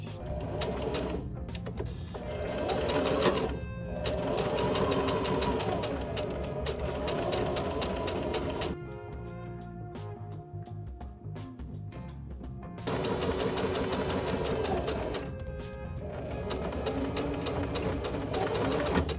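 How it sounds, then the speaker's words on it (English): A sewing machine runs a straight stitch along a folded skirt hem, a steady close mechanical whirring in long runs with brief stops and a quieter pause in the middle, no talking. "then we're gonna sew on top of it just a straight stitch."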